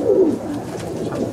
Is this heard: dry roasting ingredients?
no